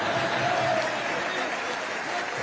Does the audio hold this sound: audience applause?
yes